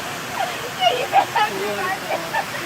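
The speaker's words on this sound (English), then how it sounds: "That is Toccoa Falls, everyone." Toccoa Falls waterfall gives off a constant, moderately loud rushing wash of water, with people talking over it throughout.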